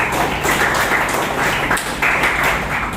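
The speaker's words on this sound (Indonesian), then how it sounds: "Yuk, tepuk tangan untuk Mas Adnan." Classroom applause for a student, a steady broadband patter of many hands clapping together for about three seconds, fairly loud and continuous with no speech over it.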